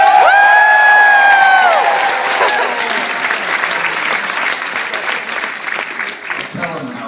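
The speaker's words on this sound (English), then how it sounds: "how enthusiastic your applause was when I mentioned his name" A convention audience at FanExpo 2014 breaks into sustained applause and cheering for Stan Lee, loud and dense, with high whoops at the start before the clapping settles into a steady roar.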